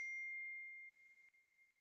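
A single clear notification ding from a mobile phone receiving messages rings out cleanly, then fades over about a second, followed by a quieter second tone in a silent room.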